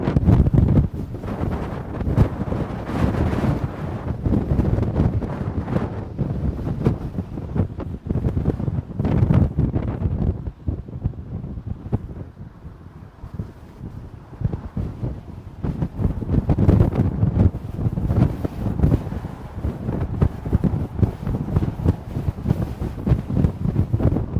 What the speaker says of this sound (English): the winds have certainly shown up in force today, starting this morning, but really taking off this afternoon